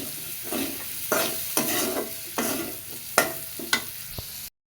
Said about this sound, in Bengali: ভাজতেছিলাম এখন দিব একটু হলুদ দিয়ে ভালো মতো ভেজে নিব